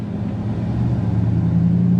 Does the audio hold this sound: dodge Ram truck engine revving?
yes